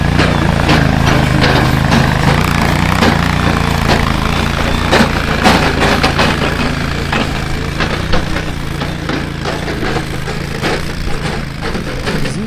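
A student-built competition tractor's engine runs steadily and loudly throughout, a continuous rough idle with knocking pulses and a deep droning hum at an outdoor durability and maneuverability event.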